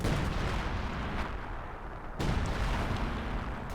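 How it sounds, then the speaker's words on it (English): Artillery shelling in the World War II strategy game Company of Heroes 2: a continuous rumble of booming impacts and distant gunfire, dense and noisy, with a sharp fresh blast roughly midway through and no speech. "You know I hate artillery?"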